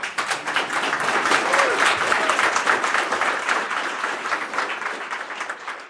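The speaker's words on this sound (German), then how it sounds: "Applaus für Leonie und Elia und DBIP" Applause from the audience at a youth hackathon final presentation in Munich, dense clapping that swells quickly, holds strong, and tapers slightly toward the end.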